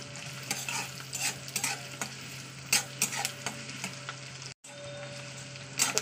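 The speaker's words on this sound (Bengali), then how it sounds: "পেঁয়াজটা একটু ভাজা ভাজা করে নিতে হবে।" Chopped onion fries in mustard oil in a pan for a chicken and potato curry, a constant close sizzle broken by repeated scraping stirs of a spoon, with one brief drop to silence and no talking.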